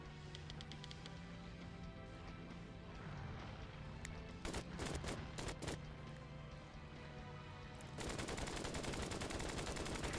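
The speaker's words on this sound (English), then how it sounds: "P-40 is armed with 6 little pistols, 2 in the nose and 4 in the wings. Easy on the trigger now." P-40 wing and nose machine guns fire in the WWII flight game Flying Tigers: Shadows Over China, with short rattling bursts under a droning aircraft engine and then a long sustained stream of rapid fire near the end.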